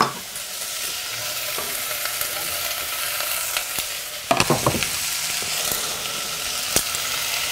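Vegetables for cheese soup sizzle and crackle in a hot pot, with a few clanks of a utensil stirring partway through.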